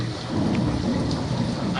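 Heavy rain pours with rolling thunder during a Hindi theatrical stage play, a loud continuous wash of downpour and low rumble throughout, with no voices.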